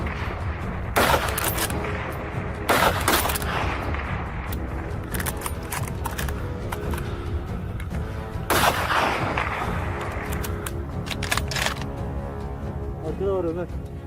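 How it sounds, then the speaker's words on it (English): Rapid gunshots ring out during a boar hunt on an open, windy hillside, with loud sharp blasts in irregular bursts over constant wind roar. "Two boars from the herd were brought down after a series of rapid shots."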